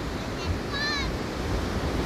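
Ocean surf washing onto the beach at Ogmore, South Wales, a steady broadband wash with wind noise on the microphone and faint high bird-like chirps partway through.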